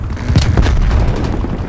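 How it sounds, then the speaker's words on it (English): A grenade detonates in Call of Duty: Black Ops Cold War on the Nuketown map, giving a loud, close boom with a few sharp cracks and rumbling debris that holds steady through the whole moment. "Throwing grenade."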